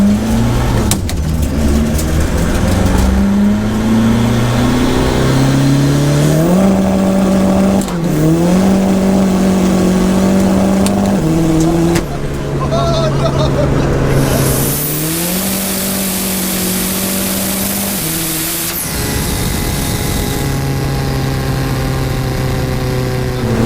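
A VW Corrado with a 1.9 TDI sequential diesel engine revs loudly and close, its pitch climbing and dropping through long sustained pulls, with a brief rougher burst partway through.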